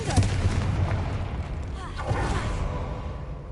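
A Confringo blasting spell in the video game Hogwarts Legacy, cast in a decayed catacomb, gives a deep booming burst at the start and a second softer blast, over a rumbling background.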